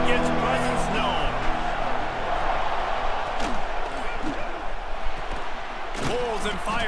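A stadium crowd in the College Football 26 video game roars in a dense, continuous wash of cheering and noise, with occasional sharp thumps and bursts on top and a commentator's voice talking over it.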